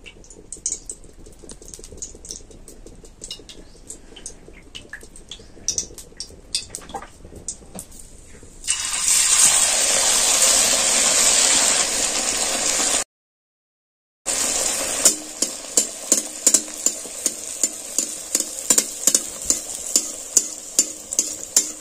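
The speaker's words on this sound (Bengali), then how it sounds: "এবার আমি তেল দিয়ে ভেজে নেব।" Rice flour and pea dumplings deep-frying in white refined oil in a kadai: sparse crackles first, then a loud steady hiss of frying, a brief gap, and fast repeated spattering pops.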